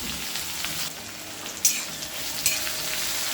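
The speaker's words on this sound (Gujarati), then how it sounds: "આ ડુંગળીને તમારે ગોલ્ડન બ્રાઉન થાય ત્યાં સુધી સોતે કરી લેવાની છે" Chopped onions sautéing in a pan with mustard seeds and cumin, a steady close hiss of frying with a couple of sharp crackles, no voices.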